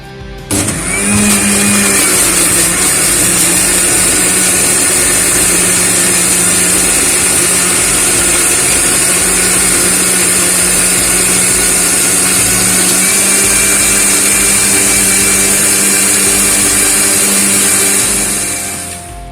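Electric mixer grinder blending roasted mango pulp with two green chillies into a paste: a loud, steady motor whine starts abruptly, runs continuously for about eighteen seconds, then cuts off.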